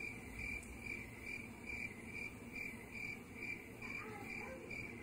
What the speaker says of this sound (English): I'm hearing crickets.